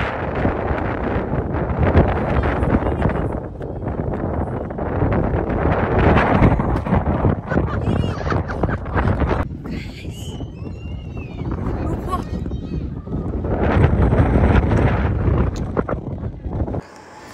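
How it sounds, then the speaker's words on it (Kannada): Strong evening wind at Nandi Hills buffets the microphone in a steady, loud roar with gusts, and people talk underneath throughout. "ಜಾಸ್ತಿ ಗಾಳಿ ಪಡ್ತಾ ಇದೆ."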